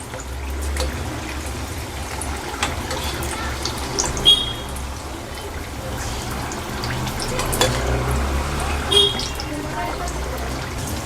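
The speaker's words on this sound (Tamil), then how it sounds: "இந்த மாதிரி கோல்டன் கலரில் வர வரைக்கும் நல்லா வேக வச்சு எடுத்துக்கலாம்" Onion samosas deep-frying in hot oil until golden: a continuous bubbling sizzle under a person talking, with a few faint clinks.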